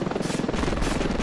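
A helicopter flies in Ravenfield, its rotor giving a dense, pulsing chop that stays loud and close throughout.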